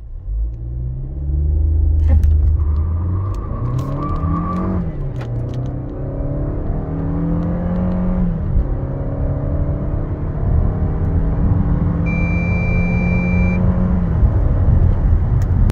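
A 2023 SsangYong Torres engine revs up hard and climbs through gears with heavy wheel spin, rising whine repeating as it accelerates, loud and close with a steady rumble underneath.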